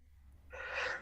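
A single sneeze from a person at a star party gathering: a short, breathy, hissing burst that swells in the second half and stays moderately loud, with no talk around it.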